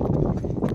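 Bullocks pulling a cart in a bullock cart race pound out a rapid, dense drumming of hoofbeats close by, loud and continuous through the short burst.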